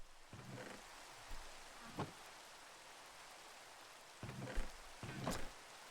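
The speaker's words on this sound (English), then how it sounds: "Yet another rainy day, my friends." Soft, steady Minecraft rainfall hissing in the background, with a few brief louder swells and patters rising over the faint continuous wash.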